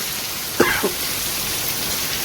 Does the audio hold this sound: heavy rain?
yes